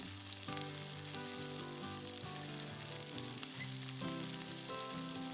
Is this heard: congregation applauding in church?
no